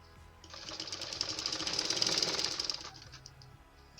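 A sewing machine stitching a sleeve with a half-inch seam, a rapid even mechanical chatter that starts abruptly, runs steadily for about two and a half seconds, then stops, with a quieter room before and after.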